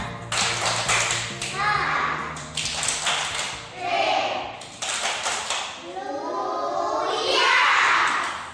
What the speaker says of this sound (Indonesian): Tepuk haleluya.